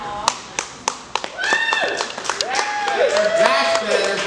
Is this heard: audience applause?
yes